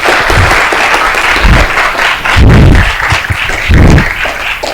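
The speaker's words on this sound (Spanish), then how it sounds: "Un aplauso" Audience applause at a talk on video game theory, loud close clapping from a crowd, dense and sustained with heavier bursts of nearby hands throughout.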